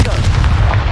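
Confringo blast spell in Hogwarts Legacy fires as one short, heavy explosive boom with a rumbling low-end burst, loud and close, lasting under a second.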